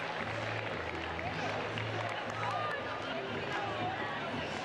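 Crowd noise fills a stadium at a Chelsea versus Brighton and Hove Albion women's FA WSL football match on a sunny autumn afternoon, a distant, steady murmur with scattered voices and a low hum running underneath.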